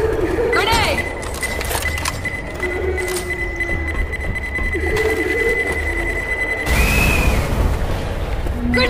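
A pipe bomb goes off in the video game Left 4 Dead, a loud boom that bursts out near the end amid gunfire and beeping, with players talking over the chaotic game noise.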